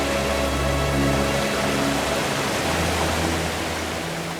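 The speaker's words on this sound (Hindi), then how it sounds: "तो झरना देख रहे हैं ना?" A waterfall pours in a steady, loud broadband roar that holds constant throughout, with a faint low hum beneath it and no voices.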